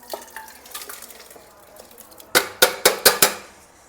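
Water poured off pressure-cooked chicken haleem in a home kitchen, a faint trickle at first, then five loud splashing pours in quick succession close by.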